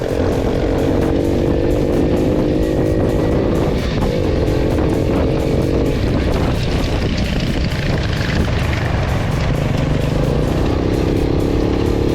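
Delta 50cc moped ridden in third gear at about 40 km/h, a loud, close, steady buzzing engine drone with wind rumble and slight pitch shifts, constant throughout.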